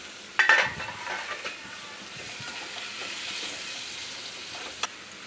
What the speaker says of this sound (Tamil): தக்காளி போட்டாச்சு. இப்போ வதக்கிக்கலாம்.